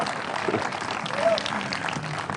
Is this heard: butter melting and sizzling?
no